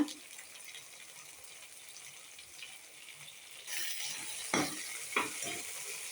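Milmaker biryani is stirred and mixed in a pan: a soft low hiss at first, then louder sizzling with two sharp scraping stirs near the end.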